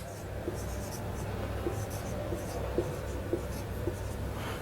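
Pen on paper writing out a math question: steady faint scratching strokes with small periodic taps, close up and continuous, with no one speaking.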